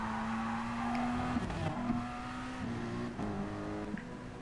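A McLaren race car in Gran Turismo Sport at Spa-Francorchamps holds a steady engine note that rises and dips with gear changes as it squirms under power, with other racing cars audible around it.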